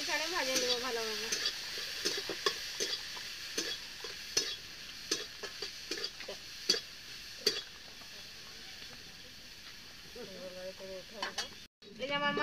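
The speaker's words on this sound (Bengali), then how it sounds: "আমি মাছটা দিয়ে নিচ্ছি, একটু ভাজিয়ে নেবো মাছটা" Tengra fish frying in oil in a pan, a steady close sizzle with repeated sharp scrapes and taps of a spatula as the fish is turned, and a short stretch of speech near the end.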